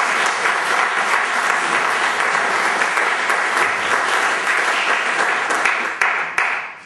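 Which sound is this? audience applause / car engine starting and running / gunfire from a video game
audience applause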